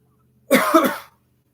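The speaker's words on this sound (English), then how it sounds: "Excuse me for the cough" A single short cough, close and fairly loud, with a quiet background and no speech.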